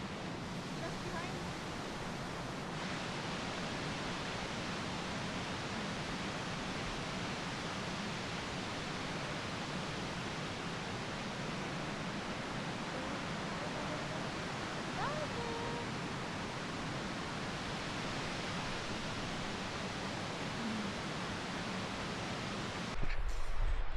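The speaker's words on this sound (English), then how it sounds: "so here's the waterfall" A waterfall roars as a steady broadband rush, close and constant for the whole span, with a brief louder burst at the very end.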